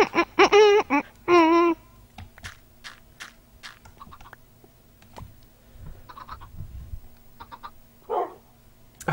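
A dog in the video game Minecraft gives a few quick, bright barks and yelps right at the start, then only faint clicks and soft scattered game sounds follow, with one more brief burst near the end.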